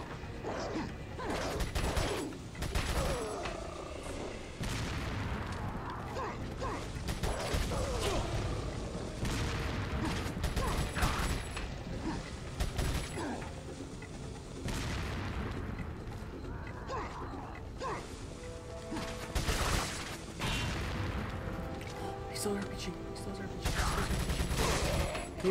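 Dense, continuous gunfire and action noise from the video game Resident Evil 4, with repeated shots and booms layered into a loud, busy mix with no clear breaks.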